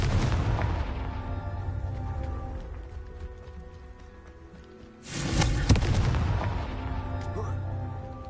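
Confringo spell blasts in Hogwarts Legacy, heavy booming bursts with rumbling tails, one loud impact standing out midway amid the crashing game sound.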